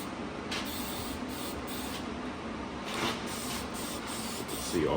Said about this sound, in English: Then you spray the developer